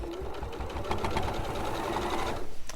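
A sewing machine runs steadily, stitching a mitred corner on a quilt binding. The motor hum and rapid needle chatter are close and continuous, then slow and stop near the end.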